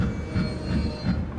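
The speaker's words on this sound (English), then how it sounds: "Train going through again." Train rolling past in American Truck Simulator, a steady low rumble of rail cars with faint periodic wheel thumps and a soft metallic hum, fairly close and continuous throughout.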